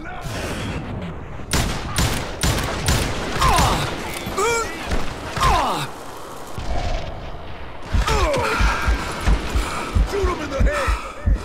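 Gunfire in the western shooter game Call of Juarez Gunslinger: loud, rapid volleys of shots and booms that come in bursts and pause briefly, mixed with shouting game voices.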